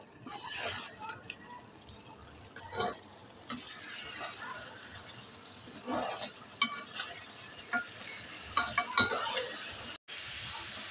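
Paya gravy being stirred and roasted in a cooking pot, with scattered scraping clinks of a spoon against metal and a soft sizzle underneath, intermittent and moderately close.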